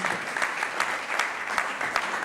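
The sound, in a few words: applause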